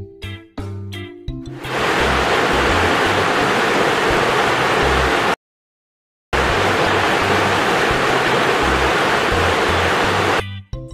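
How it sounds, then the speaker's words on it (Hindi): A waterfall pouring in a steady, dense roar of falling water, loud and unbroken for two long stretches separated by a brief silence, with short tonal sounds at the start and end and no talk. "झ से झरना।"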